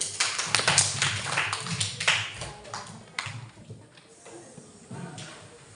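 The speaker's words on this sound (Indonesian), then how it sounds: "Tepuk tangan dulu." A small group of students claps briefly for a classmate as grades are announced, a few uneven bursts of hand claps fading out, with a nearby voice speaking quietly.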